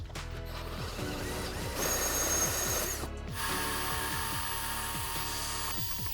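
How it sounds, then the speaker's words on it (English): A power drill bores a hole while a DIY battery charging station for film gear is being built. The whir runs steadily under a ratcheting mechanical chatter, close and fairly loud, for about six seconds with no talk. "I'm gonna drill this hole."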